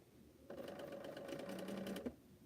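A sewing machine stitches a curved seam on a Cleopatra's Fan quilt block in one steady burst of about a second and a half, a close, even whirring hum that stops abruptly.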